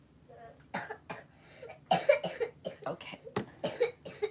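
A young boy coughs in a string of close, harsh bursts, some doubled and some drawn out. One adult voice speaks briefly.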